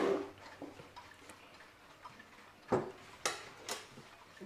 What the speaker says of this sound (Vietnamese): Âm thanh tiếng chuông Odo